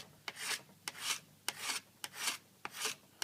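A flexed scraper drawn across a snowboard base to shave off excess P-tex filler in a gouge, six rhythmic rasping strokes, each starting with a sharp catch, close and alone.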